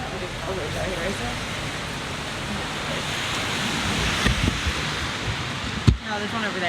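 Steady rain falling outdoors in Maine, a continuous hiss with a few louder knocks and a sharp bump near the end, as people talk nearby.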